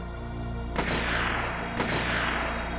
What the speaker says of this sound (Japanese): 銃声です。 ほら、 何発も鳴ってますよ。